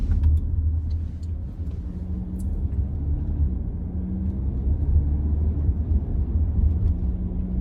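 An Audi Q5 in drive pulls uphill with a quick burst of acceleration, its low steady engine drone and road rumble filling the cabin evenly throughout, no voices.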